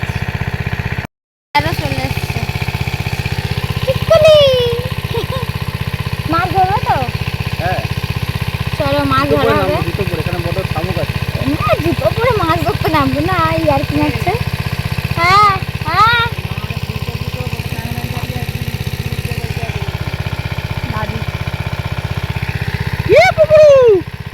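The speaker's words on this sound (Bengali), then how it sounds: "ওই যে মেশিন চলছে" An engine-driven pump steadily drones at a pond being drained, running continuously at a moderate level while birds chirp and people talk over it.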